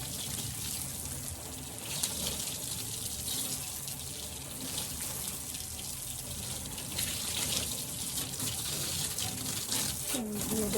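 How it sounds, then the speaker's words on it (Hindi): Steady running water from a tap splashing while a table is washed outdoors in sunshine, a continuous close gush with faint background voices. "टेबल भी धो दी, टेबल भी धुल गया।"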